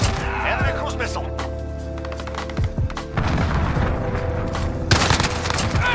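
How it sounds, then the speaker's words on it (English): Enemy cruise missile strike in Modern Warfare, heavy booms and thuds landing amid scattered gunfire, with a loud blast near the end, while players talk over the action. "Enemy cruise missile."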